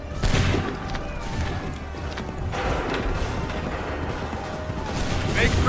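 Musket volley fire in Assassin's Creed 3, with loud crackling bursts of massed shots rolling out in waves over battlefield noise, repeating several times.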